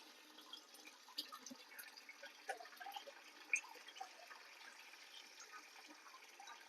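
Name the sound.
rinsing and washing with water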